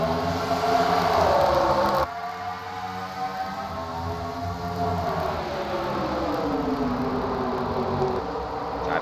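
Stock cars roaring around the short oval at Richmond in a 2008 Grand National Series race, a loud continuous engine drone with a sharp change at about two seconds, then a steady rising and falling pitch as the field passes.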